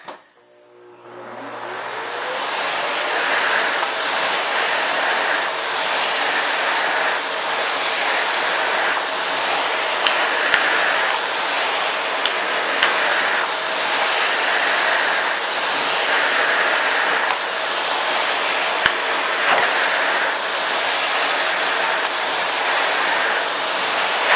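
A Hoover Commercial CH32008 Hush Tone canister vacuum roars steadily for a long stretch after a short start-up, its broadband whoosh shifting slightly as it moves over carpet.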